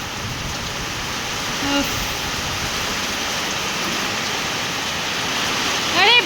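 Steady rain falls in a dense, even hiss that runs the whole time at moderate distance, with a brief exclamation from a person and a faint sharper patter near the end.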